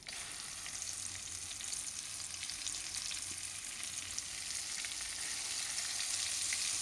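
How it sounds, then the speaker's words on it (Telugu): Ginger garlic paste for a chicken pickle fries in hot oil with a constant hiss and crackle. The sizzle is steady and fairly soft, has no voices over it, and grows a little louder near the end. "ఇప్పుడు ఇది పచ్చి వాసన పోయే వరకు బాగా వేపుకోవాలన్నమాట"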